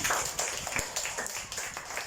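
Rapid, uneven hand claps from a fifth-grade school class, sharp and close, continuing steadily throughout with a bit of background noise.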